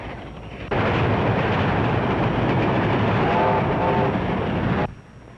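A train thunders past at close range, a loud, dense roar that starts abruptly, holds for several seconds with rattling clatter, then cuts off.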